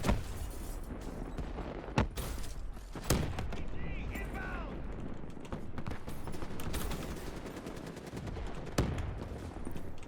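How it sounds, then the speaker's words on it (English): Call of Duty: Black Ops III multiplayer gunfire crackles in repeated bursts and single sharp shots over roughly ten seconds, with loud close reports, distant shooting and game effects, and a player talking at times. "What are they shooting at?"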